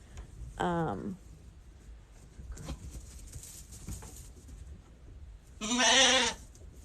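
Young ewe lambs in a barn give two loud, wavering bleats, one early and one near the end, with soft rustling and background noise in between.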